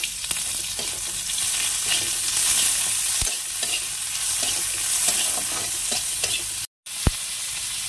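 Fish sizzles in a little oil in a hot pan while being stirred, during the cooking of a Bengali kochu ghechu shak dish. A steady frying hiss runs throughout, broken by occasional scraping clicks of the spatula and one brief gap.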